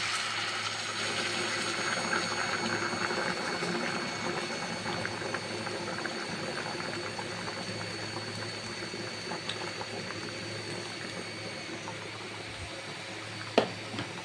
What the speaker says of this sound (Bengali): কেটলিতে জল গরম করে নিয়েছি, এখন আমি জল দিয়ে দিচ্ছি।